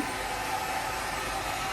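A blower running steadily to dry a freshly bathed pet dog, a loud, even whooshing hiss of air held at constant level from close by, with no talking.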